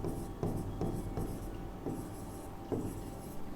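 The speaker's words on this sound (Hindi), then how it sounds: "लिख देते हैं प्रूफ" Chalk or marker scratches across a classroom board during a Class 10 physics lesson, faint intermittent strokes and taps over a low room hum.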